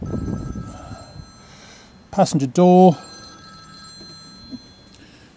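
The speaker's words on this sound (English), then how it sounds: "Just let my phone ring." A mobile phone ringing inside a Land Rover 90 2.5 TD seven-seat, two short loud bursts of electronic ringtone in quick succession, with someone talking before and after.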